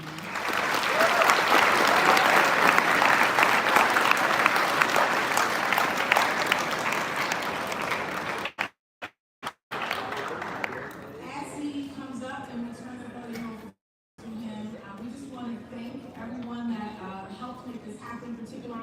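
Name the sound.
audience applauding the city mayor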